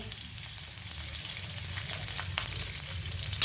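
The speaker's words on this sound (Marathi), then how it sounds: "याच तेलामध्ये आलं टाकलं आहे कांदा मी बाजूला करून ठेवला आहे लसूण टाकली" Garlic and ginger fry in hot oil for a Maharashtrian vada rassa curry, making a steady, close sizzle that holds even throughout and swells slightly toward the end. No one speaks over it.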